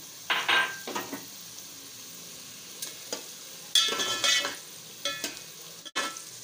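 Peas for pulao frying in a pan as green chilies go in, with scattered bursts of sizzling and scraping stir strokes, separated by quieter gaps and a sharp utensil knock near the end.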